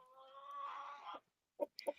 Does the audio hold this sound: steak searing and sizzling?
no